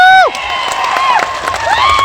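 A crowd at a political rally in Solapur cheers and claps loudly, with high whistles and whoops rising and falling over the dense roar.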